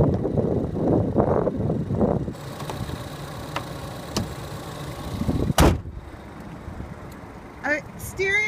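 The hood of a 2014 Ford Escape is pushed down and latched shut with one sharp, loud slam midway, after someone talks nearby. Quieter handling clunks follow.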